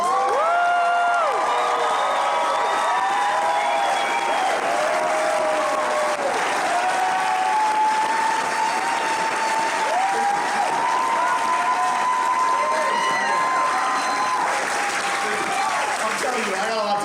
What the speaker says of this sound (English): You're going to want to applaud that